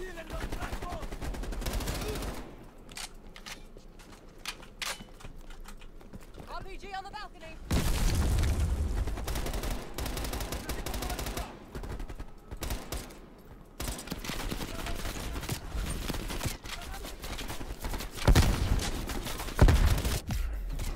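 Rapid gunfire in Call of Duty: Black Ops Cold War, with bursts of automatic shots and loud booms running through the whole stretch, a voice talking over the combat.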